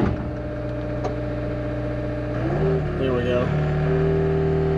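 An MTL XCT machine's engine throttles up during a regen cycle at a vacant house lot, its steady drone rising in pitch about halfway through and holding at a higher, louder whine, with a brief spoken remark over it.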